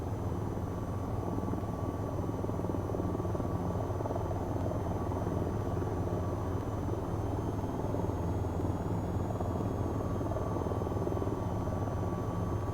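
An AH-94 attack helicopter in the flight game VTOL VR drones continuously with a steady rotor and turbine hum and a faint high whine, unchanging throughout, with no talk.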